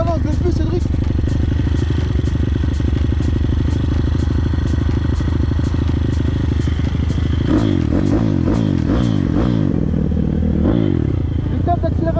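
A close, loud two-stroke Kawasaki KLX 160 motorcycle engine runs with a rapid, throbbing idle that shifts into uneven revving bursts partway through.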